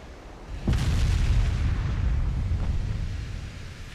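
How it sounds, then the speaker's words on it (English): A warship's main gun fires in the naval video game Ultimate Admiral Dreadnoughts, one heavy booming blast followed by a long rumbling decay that fills the rest of the moment. "Would you please fire the main goddamn gun at the fucking battleship?"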